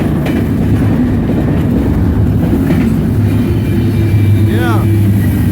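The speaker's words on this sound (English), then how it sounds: "I got this priority FedEx train." A BNSF priority FedEx freight train between Needles, California and Winslow, Arizona rumbles steadily with low, continuous rolling noise and faint rhythmic clatter, a brief high squeal near the end, and a voice talking over it.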